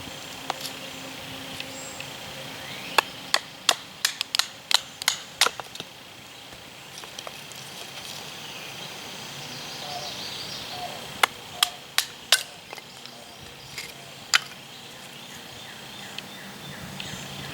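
A knife batoning tulip poplar wood to make feather sticks: sharp, distinct wooden knocks come in quick bursts of several strikes each, fairly close, over a steady outdoor background with faint birds and no speech.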